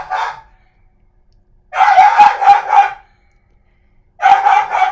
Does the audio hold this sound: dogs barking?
yes